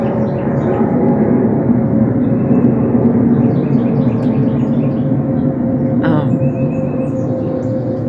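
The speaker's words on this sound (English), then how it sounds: "I don't know if you hear me over that plane or not." Airplane passing overhead as a steady, loud broadband drone that fills the whole clip, with no speech over it.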